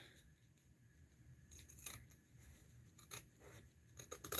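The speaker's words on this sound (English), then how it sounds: "and I'm going to cut a square out." Scissors snip through a dollar-store placemat to cut out a square for a beginner tote bag, heard as faint, close, scattered clicks and crisp scraping cuts with no talk.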